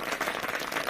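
Applause from an audience at a talk, a dense wash of many hands clapping at once, fairly loud and steady through the whole second with no break.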